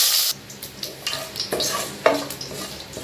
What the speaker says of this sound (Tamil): கருவேப்பிலை நல்லா பொரிஞ்சிருச்சு.